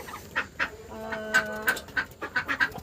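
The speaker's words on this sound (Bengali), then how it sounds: "বন্ধুরা, এই হচ্ছে কি আমার সব হাঁস মুরগি।" Domestic chickens and ducks kept at a home, giving repeated short clucks and calls in an uneven rhythm, with one sustained tonal call in the middle, fairly close and moderately loud.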